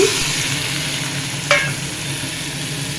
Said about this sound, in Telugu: ఇప్పుడు అదే బాండీలోకి మనం కట్ చేసి పెట్టుకున్న టమాటా ముక్కలు వేసుకున్నాము